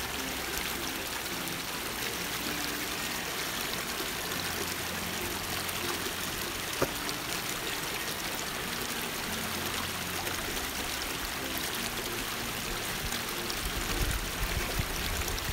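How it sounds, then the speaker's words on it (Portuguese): Fresh water from a mountain stream pours over small cascades into a pool at Poço Negro on the Rio Mau, a steady, broad rushing and splashing that carries on evenly without voices. "Água fresquinha, cascatas, lagoas."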